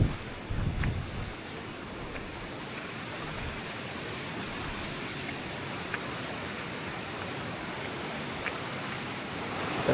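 Ocean waves wash onto the beach at Finisterre on the Camino de Santiago, a soft, steady surf hiss with faint wind and no talking.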